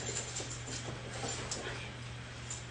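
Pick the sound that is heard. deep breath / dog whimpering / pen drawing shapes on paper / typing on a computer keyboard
dog whimpering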